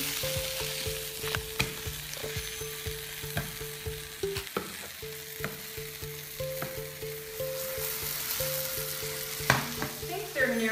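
Blueberry pancakes sizzle and fry in a pan while being flipped, with a steady crackle broken by short scraping and clattering turns of the spatula, close and moderately loud throughout.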